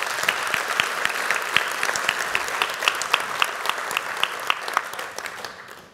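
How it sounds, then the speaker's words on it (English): Audience at a corporate chairman's council event applauding, loud sustained clapping with distinct individual claps standing out, gradually tapering off at the end. "Give her a round of applause."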